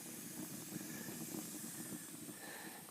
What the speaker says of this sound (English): You can hear the wood sizzling. It's not even dry.